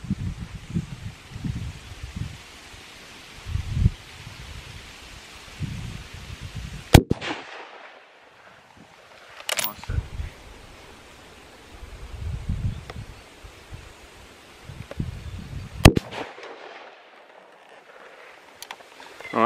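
Gunshots from a firearm at an outdoor shooting session, three sharp loud cracks spaced several seconds apart over wind and rustling background.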